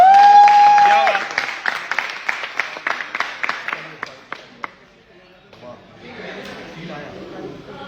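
Audience claps loudly at a motivational AWPL event as a woman is handed car keys, a burst of applause with a few sharp individual claps standing out, fading off with crowd noise and talk.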